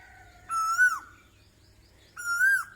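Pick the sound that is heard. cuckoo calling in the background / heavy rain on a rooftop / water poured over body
cuckoo calling in the background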